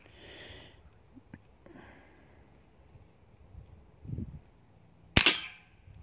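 A BB gun shot rings out as a sharp, loud crack near the end, preceded by a soft puff, brief clicks and a low thump, with quiet background between.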